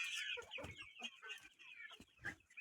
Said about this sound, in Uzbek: Gidata 70 tacha jo'ja bor.